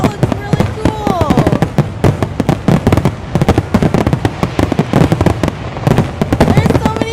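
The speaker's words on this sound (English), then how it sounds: "this firework looks amazing!" Fourth of July fireworks show with dense, rapid bursts and crackling pops going off continuously, loud and close, while excited voices exclaim over the display.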